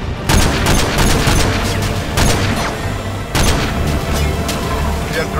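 Heavy gunfire in Call of Duty: Modern Warfare 2 as snipers engage, several loud booming shots spaced a second or two apart over dense battle noise, with radio voices talking.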